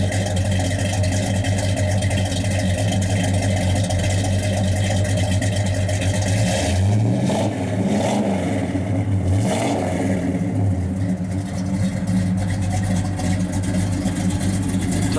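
A 1970 Pontiac GTO with a 400 engine and mild cam rumbles loud and close through its exhaust, holding a steady idle before several sharp revs blip up and fall back.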